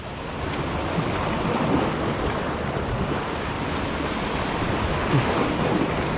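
A strong water current rushes past, a loud continuous broadband roar close by with wind buffeting the microphone throughout.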